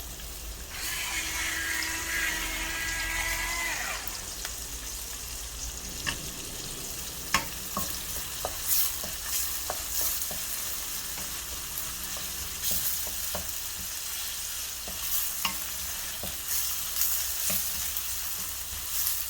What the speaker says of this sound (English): We're going to wait for the oil, for the onion to be brown.